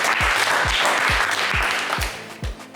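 Studio audience applause on a French television game show set, a sustained patter of clapping with a low rhythmic thump recurring about every half second underneath.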